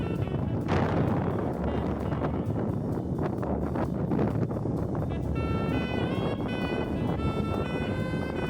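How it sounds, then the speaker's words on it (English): Wind buffets the microphone in a constant loud rumble, with faint background sounds layered beneath it. "Sorry about the wind."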